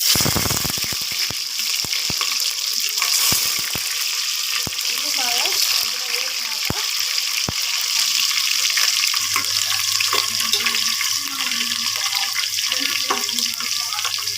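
Onions frying in plenty of hot oil with mustard seeds, cumin and fenugreek, a steady, close, hiss-like crackle with a few sharp ticks and pops early on. It runs unbroken with faint background noise.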